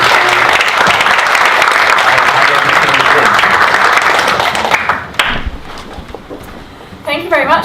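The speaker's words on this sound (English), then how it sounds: "Please give a round of applause to the presenters." An audience at a business forum panel session gives loud, sustained applause that fades after about five seconds, and a person begins speaking near the end.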